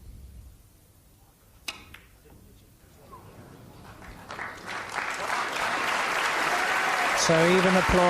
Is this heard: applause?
yes